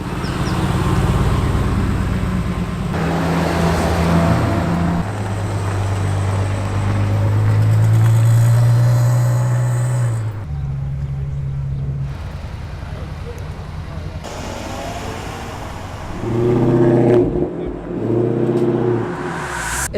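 Car engines rumble and rev nearby as vehicles pull away, with people talking over the traffic noise.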